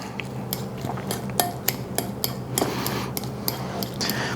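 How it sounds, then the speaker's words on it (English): Fermented eggs are chopped and mixed in a bowl, with a close series of sharp, irregular utensil clicks and taps against the bowl over a soft background. "Just chopping and mixing."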